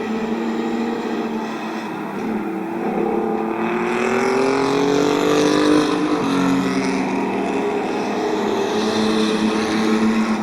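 Race trucks roaring around the Midvale Speedway oval in a 2012 event, a loud continuous engine drone with rising and falling pitch as trucks pass, with no voices over it.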